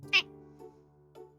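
A person imitates a cat's meow with voice during a stream: one sharp, high meow followed by two softer, shorter mewing sounds, close and clear against quiet.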